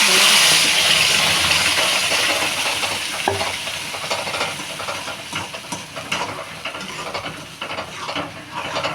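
Taro greens being stir-fried with reddish fried onions in a pan give a steady sizzle and hiss, with scraping stirring strokes that grow louder then ease slightly over the stretch, no voices.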